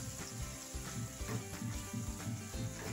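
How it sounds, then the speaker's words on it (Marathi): Finely chopped onion and tomato frying in pav bhaji puree in a pan, a faint, steady sizzle with soft stirring pulses, quiet and close with no voices. "आता आपण त्याच्यामध्ये बारीक चिरून घेतलेला कांदा टाकू, बारीक चिरलेला टोमॅटो टाकू"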